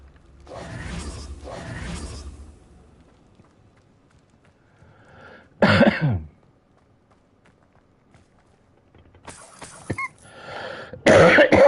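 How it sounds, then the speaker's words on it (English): A couple of harsh, close coughs, then quieter sounds, another short burst, and more rough coughing near the end. "Oh, crikey, I picked up a bit of a cough."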